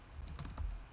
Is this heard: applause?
no